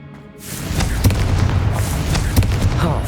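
Fiery Confringo spell blasts in Hogwarts Legacy, several booming bursts at about one-second intervals over a continuous rumbling background.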